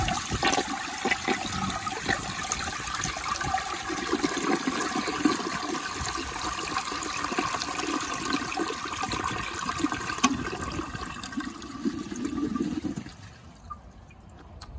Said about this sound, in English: I'm gonna give you all a flush